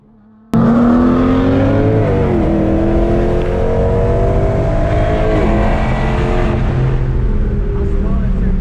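A boosted Dodge Charger Scat Pack launches at a drag race against a Nissan GTR R35, a sudden loud engine roar that climbs in pitch through the gears and holds close and powerful.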